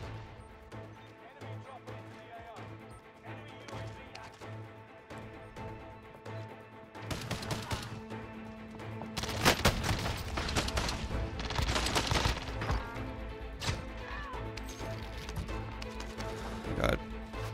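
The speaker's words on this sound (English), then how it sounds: "Sounds like a shotgun." Shotgun fire in a Call of Duty: Warzone match, quiet at first, then a loud barrage of sharp, overlapping blasts and crashes from about seven seconds onward, continuing to the end.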